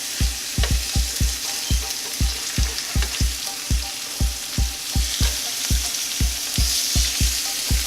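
Food searing in a pan seasoned with Old Bay, garlic and onion gives a steady loud sizzle, broken by a regular series of sharp clicks or taps, likely from a spatula or tongs, with no voices.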